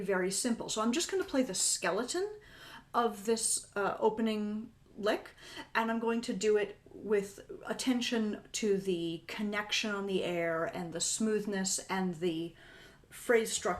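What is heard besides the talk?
No distinct noise like a dog, phone or traffic.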